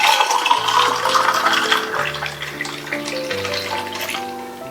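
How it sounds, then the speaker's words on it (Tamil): Watermelon juice pours into a tumbler with ice cubes, a continuous close liquid splash and trickle with light clinks, alone with soft background music. "இந்த டம்ளரில் ஐஸ் கியூப் சேர்த்துட்டு நம்ம ரெடி பண்ண ஜூஸை விட்டுறலாம்."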